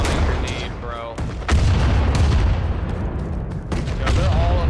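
Loud booming blasts from a grenade in the video game Rising Storm 2 on a winter war battlefield, heavy low thumps amid rattling gunfire, one big explosion standing out midway.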